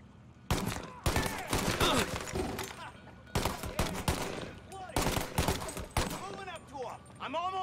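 Gunfire in the video game Mafia: Definitive Edition comes as bursts of rapid automatic shots and loud bangs, separated by short pauses, with someone talking over parts of it.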